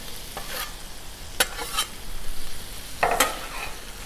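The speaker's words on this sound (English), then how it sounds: "let's flip these things around here" Shrimp flipped on a buttered Blackstone griddle, close sizzling broken by several sharp spatula scrapes and flips in quick uneven bursts, no voices.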